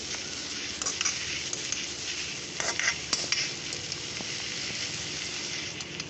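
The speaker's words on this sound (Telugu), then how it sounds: "శుభ్రంగా వేయించుకోవాలి అందులో ఉన్న మొత్తం నీరంతా పోయేంత వరకు డ్రైగా అయ్యే వరకు వేయించుకోవాలి" Drumstick leaves frying with coconut in a pan until all their moisture cooks off, a steady close sizzle running throughout with occasional stirring scrapes and clinks.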